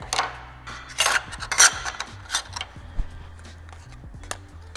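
Steel clamps are ratcheted and tightened onto metal pieces during oxy-acetylene gas welding setup, a series of close, sharp clicks and metallic clatters in irregular bursts.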